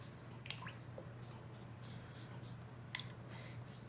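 A wet brush spreads water across paper for watercolor painting. The sound is very faint and quiet, with a few soft squishy dabs and drips over a low steady hum.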